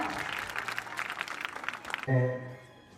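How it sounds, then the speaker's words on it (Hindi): An audience at a school alumni meet claps, a lively crowd applause lasting about two seconds before cutting off into a low sustained tone. "तो एक बार जोरदार तालियां सभी के लिए।"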